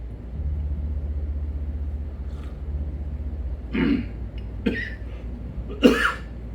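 Several short, harsh coughs from a preacher during a chapel sermon sound close by, spaced a second or two apart over a low steady hum.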